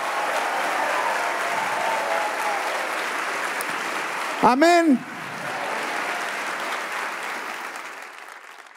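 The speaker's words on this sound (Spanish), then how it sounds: "Si le va a dar ese aplauso, dele ese aplauso." A church congregation breaks into sustained applause during a sermon, a dense wash of clapping filling the whole stretch, with a brief spoken exclamation rising above it midway.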